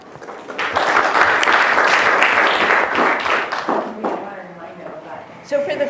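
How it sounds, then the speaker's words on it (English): A classroom group breaks into applause to welcome a guest speaker, swelling quickly and fading after a few seconds, followed by a few voices talking nearby. "Let's give him a round of applause."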